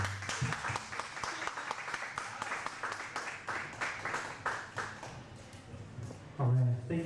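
A comedy club audience applauds a comedian, many hands clapping briskly and close, with whoops mixed in, before a brief burst of voice near the end.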